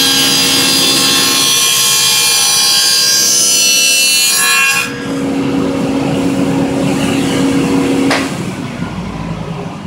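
A power tool cuts a dado through Garnica plywood, a loud, steady whine for about five seconds, then a lower, rougher running tone that winds down near the end, with no talk over it.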